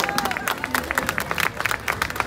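A festival crowd at an outdoor fiesta applauds the staff, a dense run of rapid claps mixed with crowd murmur and voices, fairly loud and sustained.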